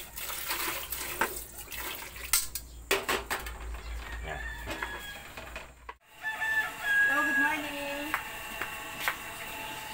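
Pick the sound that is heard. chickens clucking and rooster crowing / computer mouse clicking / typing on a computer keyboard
chickens clucking and rooster crowing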